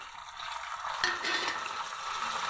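Lentils, tamarind and sliced coconut stirred and sautéed in a pan for chutney, giving a steady close sizzle with scraping stir sounds and one sharper clatter partway through.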